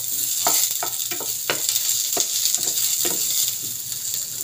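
Onion frying in a pan, heard as a steady high sizzling hiss with a handful of soft tapping stirs and clicks scattered over the first few seconds, close and moderately loud.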